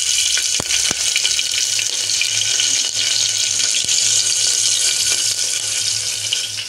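Dried red and green chilies fry in hot oil in a pan with a dense, loud, continuous sizzle and bubbling, close by, broken by a few sharp pops and spatula clicks.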